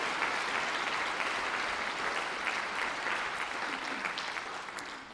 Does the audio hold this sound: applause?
yes